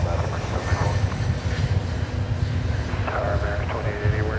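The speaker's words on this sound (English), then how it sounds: "The sights and sounds of airplanes and lawnmowers all kind of intermingling." Aircraft engine drone at DFW Airport, a steady low rumble filling the background while people talk nearby throughout.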